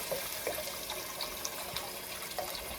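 Water running steadily into a cooking pot of polenta with smoked herring, a continuous soft splashing flow heard close up with no voices.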